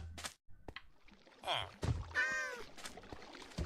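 A cat meows a few times in the Minecraft video game, with short tonal cries amid game sounds while a person talks over them.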